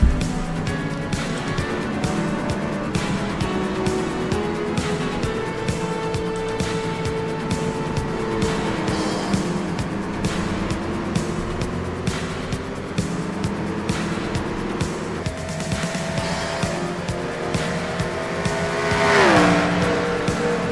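Race cars circulate Sebring International Raceway in a racing video game, engines droning and shifting pitch continuously, with occasional passes and a tire squeal building toward the end.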